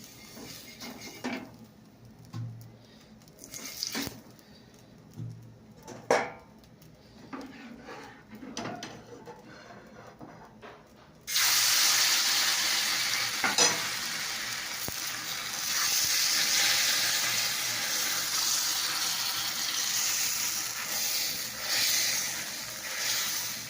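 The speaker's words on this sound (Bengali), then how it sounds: "তো দেখো হয়ে গেল, আমি 2 পিঠ সেঁকে নিচ্ছি। এবার আমি আবার তেল দিয়ে দিলাম।" Flatbread cooks in a pan: first a few quiet clunks and scrapes, then oil is added and a loud, steady hiss of frying takes over and holds for the rest of the time, with no talking.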